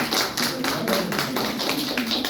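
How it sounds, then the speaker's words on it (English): Classroom audience clapping for a resource person, a steady patter of many hands applauding together, fairly close and continuous with a few voices mixed in. "let's clap for sir"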